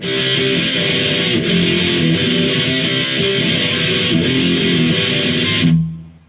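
Sustained distorted electric guitar power chords strummed in a steady driving rhythm, loud and close, ringing out and cutting off at the end.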